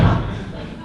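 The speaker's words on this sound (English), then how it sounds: "I heard the door again." A door slams during a stage play in a theatre, one heavy, loud thud right at the start that quickly fades into room echo.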